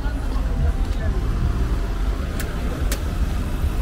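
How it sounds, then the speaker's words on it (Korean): Dense street traffic in central Tashkent, Uzbekistan, with a steady roar of car and bus engines close by and a murmur of passers-by, continuous across the clip. "여기도 교통이 장난 아니네."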